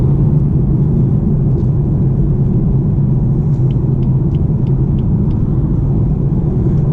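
A 2017 BMW 420d xDrive with a four-cylinder diesel engine cruises along, its cabin filled with a steady, loud low rumble of engine and road noise that stays constant throughout.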